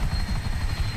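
Police helicopter in GTA 5, a steady close rotor thrum with low pulsing chop filling the whole second, no talk.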